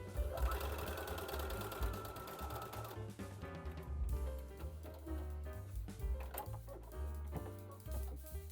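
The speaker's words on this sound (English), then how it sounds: "I need to sew them together and probably need to wind the bobbin." A sewing machine runs steadily at close range, stitching fabric bias strips together with navy blue thread. Its rapid mechanical chatter continues unbroken, with slight changes in speed and no voices.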